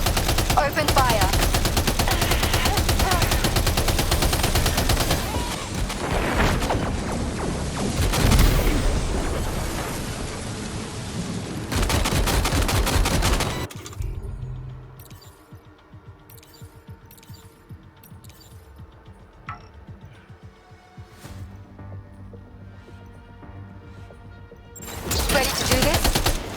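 Heavy gunfire from the video game Death Stranding 2 roars in sustained rapid automatic bursts, loud and dense, then drops to a quieter stretch of sporadic shots and clatter before another loud burst returns.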